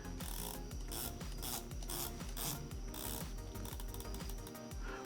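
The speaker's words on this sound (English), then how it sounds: "Let's listen to the bezel action really quickly." A 120-click unidirectional ceramic-insert bezel on a 200m automatic dive watch is turned, giving rapid, dense ratcheting clicks heard close up and continuously with no voices.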